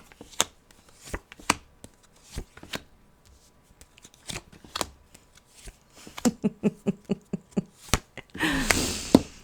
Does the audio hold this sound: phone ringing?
no